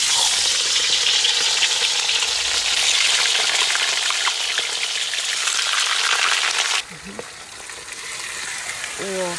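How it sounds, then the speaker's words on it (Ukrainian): Bone-in lamb sizzles and fries loudly in a hot cauldron, a steady close crackle that drops briefly as the meat is stirred, with faint scraping near the end. "казан в нас вже нагрітий, і зараз ми будемо обсмажувати м'ясо. М'ясо в нас з кісткою."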